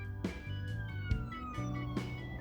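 An emergency vehicle siren wails from inside a car, with a steady falling tone gliding across a couple of seconds over low road and engine rumble, plus a few brief thumps.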